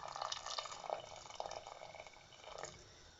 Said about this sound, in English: I'm gonna add some more water to cover it again.